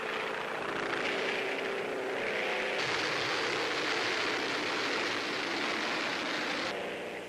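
A WWII bomber roars in over the beaches on a daylight raid on Nazi-occupied France in 1942 wartime footage. The engine noise is a loud, steady roar that fills the whole stretch without a break, and no one speaks.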